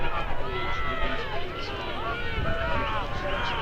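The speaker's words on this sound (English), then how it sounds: "we can confirm it's very loud as everyone is cheering everyone on towards this finish" A crowd cheers loudly and continuously at the finish of a university rowing regatta, with a dense, sustained roar of voices and shouts, a commentator talking over it.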